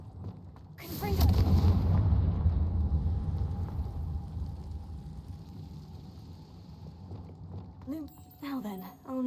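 A Confringo blasting spell in Hogwarts Legacy lands with a loud booming burst that rumbles and slowly fades over several seconds, followed near the end by a voice and another short impact.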